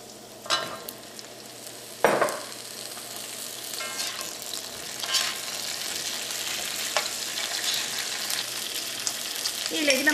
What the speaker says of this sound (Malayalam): ഇനി നമുക്ക് ഇതിലേക്ക് വഴുതനങ്ങ ചേർക്കാം